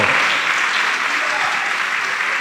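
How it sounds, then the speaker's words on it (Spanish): A church congregation applauds during a sermon, producing a sustained, even wash of clapping that is loud and continuous throughout, with faint voices mixed into the crowd. "Démosle un aplauso al Señor por ese espíritu que nos ha dado."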